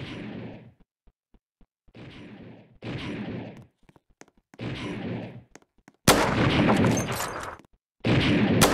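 Bursts of gunfire in a Roblox first-person shooter game, several loud rattling volleys separated by short pauses, the last two dense and heavy, with no talk.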